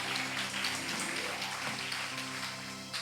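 A church congregation applauds, a steady wash of clapping at moderate distance, continuous and even.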